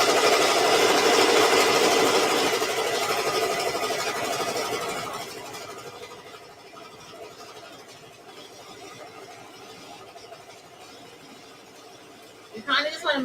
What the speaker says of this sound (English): so the next stitch is going to be the tack round stitch